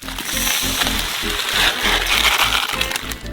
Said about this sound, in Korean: 냄비에 메밀 1kg을 붓고